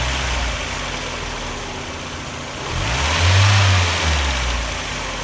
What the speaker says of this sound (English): And now my engine is ticking.